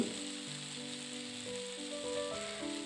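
Cooked pasta fries in a hot pan as a fried egg is added, giving a steady, soft sizzle that runs the whole time under gentle background music.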